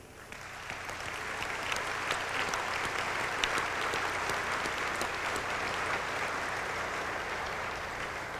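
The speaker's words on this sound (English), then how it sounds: "I want to give a round of applause to these volunteers who do an excellent job here" An audience at a 1997 naval aviation symposium applauds museum volunteers, with dense, sustained clapping that swells quickly and holds steady at moderate loudness for several seconds, with no voices over it.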